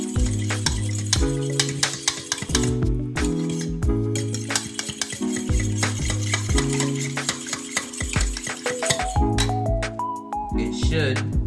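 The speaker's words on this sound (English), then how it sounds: "And basically whisk the butter and the milk" A fork whisks butter and milk together in a bowl, with rapid rhythmic clinks and scraping against the dish, close and continuous, while music plays along underneath.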